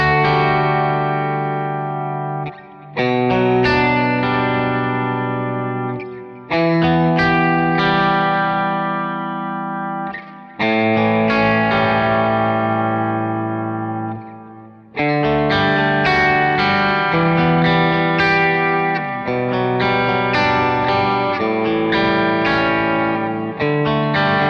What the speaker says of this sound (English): I'll play these kind of 3-note chord shapes, but I'll keep that G open, and you can hear how it rubs against the chords